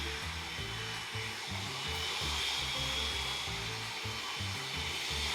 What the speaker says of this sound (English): Press the button, and then you got turbo.